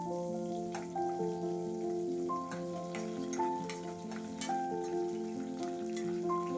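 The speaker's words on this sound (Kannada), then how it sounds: "ನೆಕ್ಸ್ಟು ಗೋಡಂಬಿ, ಬಾದಾಮಿ ಹಾಕ್ಕೊಳ್ಳೋಣ. ಹಾಗೆ ಶುಂಠಿ ಕೂಡ ಹಾಕ್ಕೊಂಡು ಚೆನ್ನಾಗಿ ಸ್ವಲ್ಪ ಫ್ರೈ ಮಾಡ್ಕೋಬೇಕು." Cashews, almonds and ginger fry in a pan with a steady, soft sizzle that runs beneath prominent background music; no one speaks.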